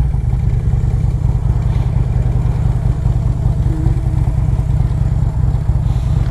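A 2007 Harley-Davidson Road Glide with a Screaming Eagle 113 engine rumbles steadily while riding, a dense low-pitched engine drone with wind noise, constant and close throughout.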